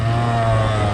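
A two-stroke motocross bike with a freshly rebuilt top end runs steadily, its engine holding a loud, even drone that stays unbroken and close for the whole moment.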